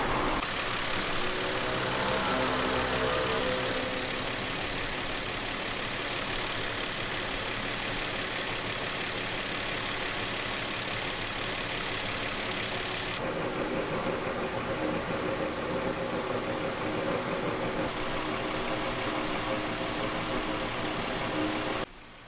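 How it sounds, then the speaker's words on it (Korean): A Hyundai Veracruz gasoline engine idling during an engine flush, a steady continuous drone with a constant hiss, unchanging throughout before a slight drop near the end, with no voices. "조용하게 시동 걸어놔니까"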